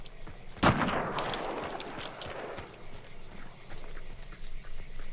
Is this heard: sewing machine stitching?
no